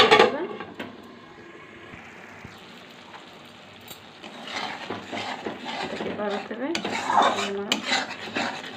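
A metal lid is set onto a pan of cauliflower, potato and green pea curry, giving clattering metallic clinks and scrapes up close, with a voice talking over parts of it.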